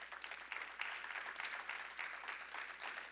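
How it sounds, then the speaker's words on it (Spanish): A church congregation claps steadily and fairly softly for a few seconds, the applause heard alone with no talking. "tenemos que darle aplauso"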